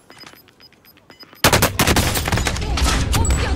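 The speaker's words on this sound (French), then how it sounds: "On tire dessus." Loud, dense gunfire in Call of Duty: Warzone, with the CR-56 AMAX rifle in use, erupting into sustained rapid bursts after a quieter stretch of scattered distant shots.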